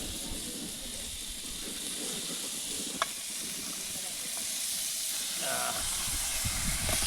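Pieces of meat sizzling and hissing as they go into a hot frying pan that already holds potatoes, a steady broadband sizzle throughout with a sharp tick near the middle and a slight swell toward the end.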